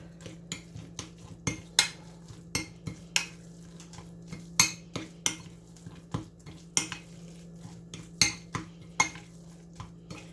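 A spoon stirring a partly melted spinach cheese dip in a dish, a steady run of sharp clinks and scrapes against the bowl over a low hum.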